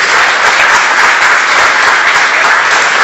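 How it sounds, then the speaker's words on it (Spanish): Loud, dense applause from a graduation ceremony audience greeting a university official, a steady wash of clapping throughout. "para quien pido un fuerte aplauso"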